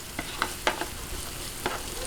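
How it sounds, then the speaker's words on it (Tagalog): Onion sizzles gently in a hot pan, a steady hiss of frying broken by a few sharp scraping stirs of a utensil, close and fairly quiet. "Ngayon, umpisahan na po natin yung paggigisa."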